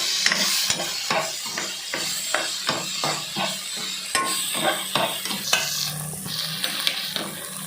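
Squid (bondas) frying for squid chilli in a pan, a close steady sizzle broken by regular scraping stirring strokes and occasional clinks of utensil on the pan.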